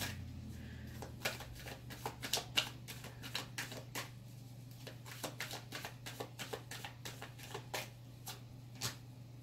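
Tarot cards being shuffled close up, a quick run of crisp riffling flicks and taps against a low steady hum, fairly faint.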